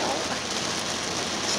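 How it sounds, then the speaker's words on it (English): Heavy rain pours down outside in a steady, dense hiss that stays even throughout, with no voices over it. "But I'm not coming out here if this rain getting that crazy"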